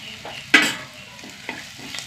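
Crushed ginger and garlic fry in a hot pan, a steady sizzle broken by a few scraping stirs of a spoon, one sharp clatter standing out near the start, close and without talk.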